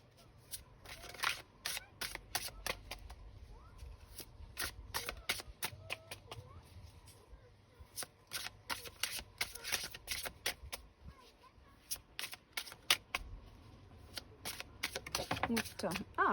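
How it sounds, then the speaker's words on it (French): Tarot cards being shuffled by hand in a van, rapid papery riffles and snaps in irregular bursts, close and fairly faint, with a voice speaking at intervals. "on bat les cartes pour le mois d'août"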